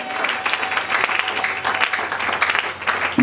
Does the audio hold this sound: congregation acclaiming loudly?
yes